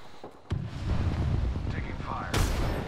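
Gunfire in Apex Legends: a sudden loud burst of shots followed by a sustained rumbling volley and a sharp blast near the end, with a voice talking over the action.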